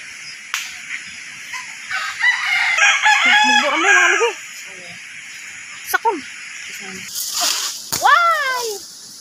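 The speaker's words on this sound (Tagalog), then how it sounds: "Yan yung mga manok." Chickens on a rural Leyte property crow and cluck, with several rising rooster crows and scattered clucks at close to mid distance, while people talk nearby and overlap the calls.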